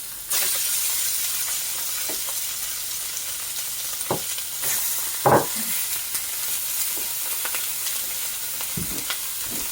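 Steady, loud hissing sizzle of food frying in a preheated pan, with a few close scrapes and taps as the pieces are moved about.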